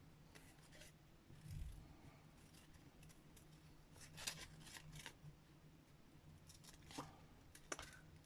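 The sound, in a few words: cutting out a paper piece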